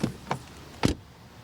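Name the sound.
electric SUV car door closing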